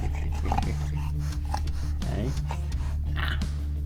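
A dog snorts and sniffs close by in a room, over the steady hum of a guitar amplifier, with a person talking through it.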